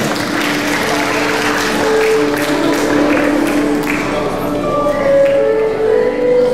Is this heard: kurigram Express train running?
no